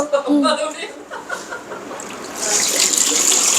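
Water splashes and sloshes at a toy washing machine as a child washes things, quiet at first, then a steadier, louder splashing toward the end, with an adult talking and a child chuckling over it.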